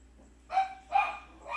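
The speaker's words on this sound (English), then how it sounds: "And there's the dogs again." Dogs bark outdoors during a severe weather event, three short barks spaced apart, moderately close and clear against a quiet background with no talking.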